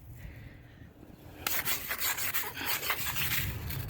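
Scraping moss, mold and rot off hollowed-out wooden siding on a house wall: after a quiet start, a loud rasping scrape of continuous back-and-forth strokes, close by and with no talking.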